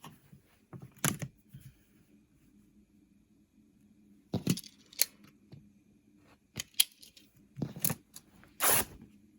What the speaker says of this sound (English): I'm going to cut 15 inches, same deal, mark it, rip it, and I'll have a 15-inch square.